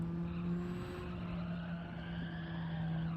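Race car in Gran Turismo 7 during a time trial, a steady droning engine note holding near one pitch with a faint tire hiss underneath, continuous and fairly close, no voices.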